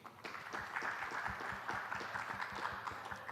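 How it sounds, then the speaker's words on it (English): Audience applause at an affordable housing panel at Reality Expo 2023 greets a panelist being introduced, a fairly quiet, steady patter of clapping from a seated crowd. "A round of applause for him."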